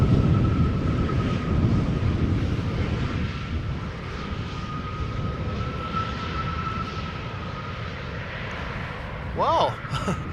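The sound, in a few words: airplanes departing at Schiphol Airport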